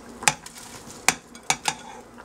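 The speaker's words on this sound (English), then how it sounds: "Then we're just going to stir this around" A utensil stirring a pot of vegan ramen soup with spinach, cabbage, corn and tofu, four crisp clinks against the pot spaced irregularly, near and clear with no talk.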